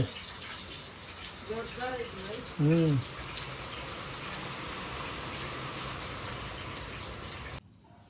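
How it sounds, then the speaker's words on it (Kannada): Rain falls in a steady, even wash of hissing noise that runs for several seconds. A voice briefly speaks over it early on, and the rain sound cuts off abruptly near the end. "ಮಳೆ ಮಸ್ತ್ ಅಲ್ಲೈತಿ"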